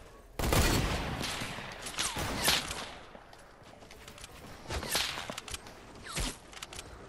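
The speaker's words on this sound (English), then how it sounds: "Dude, he just got sniped." Sharp gunfire bursts from Fortnite, a loud volley early on followed by scattered shots and another cluster later, with faint voices mixed in.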